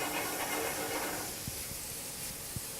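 Butter sizzles in a hot pan with squid, tomatoes and olives, a steady broadband hiss with a few soft knocks near the end, heard without voices.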